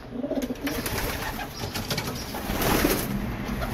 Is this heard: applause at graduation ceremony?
no